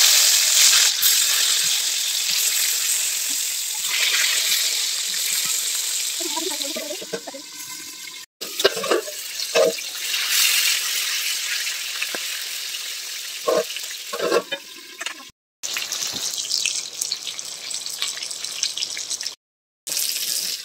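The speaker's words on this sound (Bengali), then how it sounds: "তো কড়াইতে তেল দিয়ে দিয়েছি, এখন পটলগুলো দিয়ে" Pointed gourd pieces, rubbed with salt and turmeric, fry in hot oil in a wok with a continuous crackling sizzle, fading and rising as the pieces are stirred, with brief gaps of silence.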